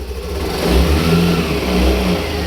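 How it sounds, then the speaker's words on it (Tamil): A Honda Dio BS6 scooter engine revs up and eases off twice, a steady close mechanical drone with no voices. "நல்லா ரேஸ் பண்ணி பார்த்தாலும் இன்ஜின் சவுண்டு பார்க்கும்போது நல்லா ஸ்மூத்தாக இருக்குது"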